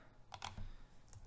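A few quick keystrokes on a computer keyboard while entering a message into a Twitter program, close and fairly quiet, with no talking.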